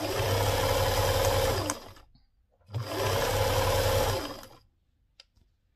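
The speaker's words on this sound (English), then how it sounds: "So now I'm going to sew it round until I come back to this edge," Sewing machine hemming a six-panel skirt with horsehair braid, running in two loud, steady bursts of about two seconds each with a short pause between, then stopping.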